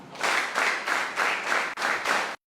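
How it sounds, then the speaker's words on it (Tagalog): An audience at a church celebration claps in rhythmic waves: about seven even surges of group applause in a steady beat, then an abrupt stop into silence. "Bigyan po natin siya ng itong palakpak."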